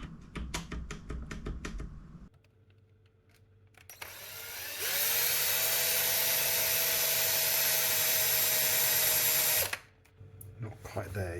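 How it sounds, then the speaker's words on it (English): A power drill bores out a stuck screw in an early Sony Vaio PCG-747 laptop, a steady high whine lasting several seconds between stretches of clicking and handling noise, with spoken talk at the start and end. "So I'm going to take the laptop downstairs and drill this out."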